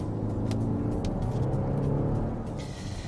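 An Audi SQ5 TDI diesel engine revs under throttle, a deep, loud rumble that climbs steadily in pitch and then eases off slightly near the end, with no talk.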